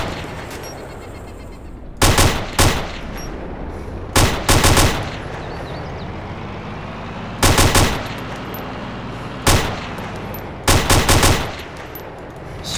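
Machine gun fire in ARMA 2 with the Wasteland I44 mod, loud bursts of rapid automatic shots repeating in short clusters every few seconds over steady background ambience, no talking.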